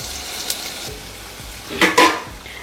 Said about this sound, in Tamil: சின்ன வெங்காயம் வதக்கின்னு இருக்குங்க.